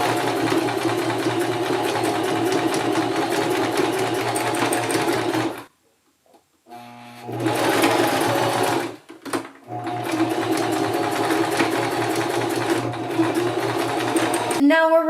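A sewing machine stitches elastic onto the bottom of a skirt, its fast, steady motor chatter running loud and close in long stretches, broken by a brief pause and a short restart midway.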